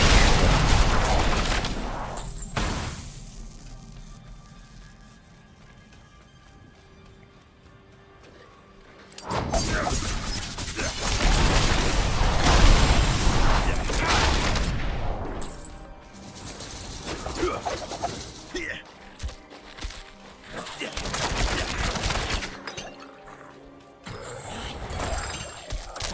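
Diablo 4 Rogue Barrage skill volleys with ricochets during Torment-tier combat, a dense run of sharp impacts and crashes coming in loud waves between quieter stretches, with game effects layered throughout.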